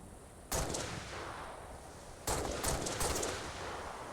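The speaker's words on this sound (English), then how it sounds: "Somebody's sniping." Sniper rifle fire in a shooter video game: a single sharp crack, then a tight cluster of three more shots a couple of seconds later, each loud and abrupt over a low steady background.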